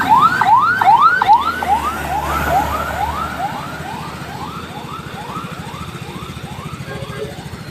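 A fire engine passes with its siren wailing in rapid repeated sweeps during a large fire in Cikarang, Indonesia, loud at first and then gradually fading as it moves away.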